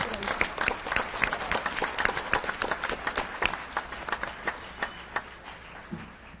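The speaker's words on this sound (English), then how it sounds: "So let's hear a special applause for them as well." Applause for students at a school board meeting: a room of people clapping steadily for several seconds, the claps thinning and growing sparser toward the end.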